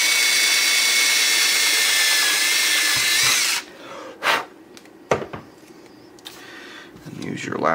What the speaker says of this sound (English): Now we're going to go ahead and drill this hole right here.